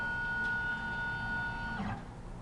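A CNC router controlled by Grbl traverses to its work-coordinate zero, giving a steady motor whine with a high sustained tone that stops near the end, then a brief settling sound.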